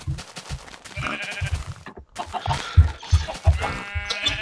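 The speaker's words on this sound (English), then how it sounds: "I'm luring the sheep to the island." Sheep in the Minecraft video game bleat repeatedly in short, wavering calls over rhythmic thumping game sounds, moderately close, with no talking.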